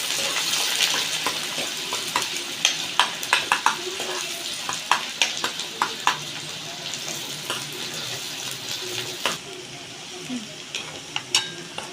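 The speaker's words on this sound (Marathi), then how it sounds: "हा कांदा टाकला, कांदा कापून घेतलेला बारीक" Finely chopped onion frying in a pan with mustard seeds and curry leaves, a steady close sizzle with scattered crackles and utensil stirring clicks throughout, fading slightly near the end.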